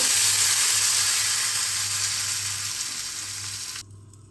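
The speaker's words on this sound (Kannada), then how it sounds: "ಮೆಣಸಿಕಾಯಿ ಹಾಕ್ಕೊತಿದ್ದೀನಿ ಒಗ್ಗರಣೆಗೆ ಕಸೂರಿ ಮೇಥಿ ಒಂದು ಸ್ವಲ್ಪ ಹಾಕ್ಕೊತೀನಿ" Dried red chillies and kasuri methi sizzle in hot tempering oil for a dosa chutney, a loud, close, steady frying hiss that slowly fades and then cuts off abruptly near the end.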